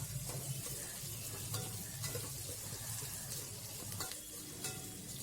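Onions sautéing in a pan until golden brown for a mutton gravy, a loud continuous sizzle with occasional stirring scrapes, close and steady throughout.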